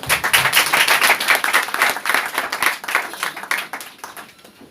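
A church congregation breaks into lively, sustained applause, with many hands clapping close together in a dense, even burst that fades slightly toward the end.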